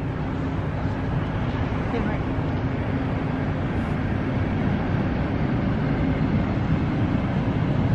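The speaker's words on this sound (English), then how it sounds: "I got some good train video for you." A steady, heavy rumble of a train rolling past, continuous and fairly loud throughout, with no clear breaks.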